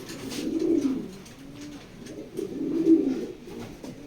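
A racing pigeon coos in two soft, low, rolling phrases, close by and alone with no talk.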